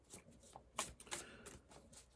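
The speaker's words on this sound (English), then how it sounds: "I am shuffling Chris Ann's Light Seer's Tarot, one of my new favorite decks" Quiet, close shuffling of a Light Seer's Tarot card deck: a run of soft papery slides and flicks in an uneven rhythm, with no voices.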